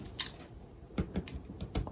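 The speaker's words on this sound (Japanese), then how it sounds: "ハサミで少しだけカットします。" Scissors trim excess adhesive sheet at the edge of a refrigerator door during a DIY fridge makeover, making a few faint, sharp snipping clicks spaced irregularly with quiet pauses between, no voices.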